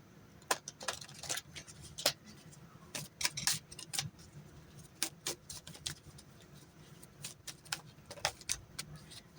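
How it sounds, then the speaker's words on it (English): Tarot cards shuffled by hand nearby, a steady run of crisp papery riffles and flicks in quick irregular bursts, fairly quiet, with no talking. "Let's go ahead and shuffle those again."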